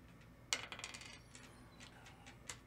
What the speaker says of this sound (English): I'm gonna re-roll any one die that's already on.